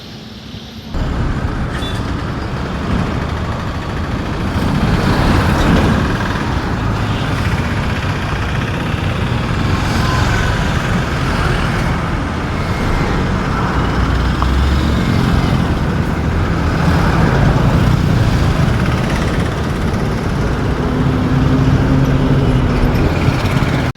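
New buses pull away from a bodybuilding workshop, a continuous broad rumble of heavy engines and road noise rising and settling over a long stretch, with faint vehicle sounds around.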